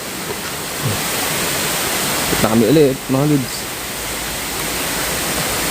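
Steady broadband rush of a waterfall at Camp Payapa, loud and continuous throughout, with someone speaking briefly over the roar partway through.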